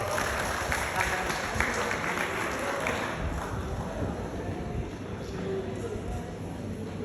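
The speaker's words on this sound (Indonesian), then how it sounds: "Tepuk tangan buat Tuhan ya" Church congregation applauding together during a worship service, a dense, steady wash of clapping that carries evenly through the room for several seconds without fading.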